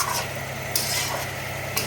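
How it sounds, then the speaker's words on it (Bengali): Chicken liver and gizzards are stirred in a pan, a soft steady sizzle with a few brief scraping strokes of a utensil up close, and nobody speaking. "মেটে স্টোমাক এখন কষানো চলছে, ভালোভাবে কষিয়ে নিতে হবে।"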